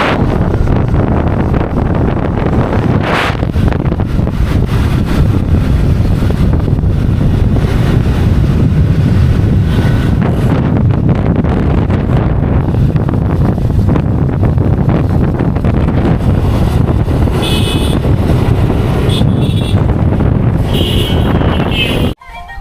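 Strong wind buffets the microphone in a loud, continuous roar across the whole stretch, with no let-up, on an open roadside spot during a summer outing.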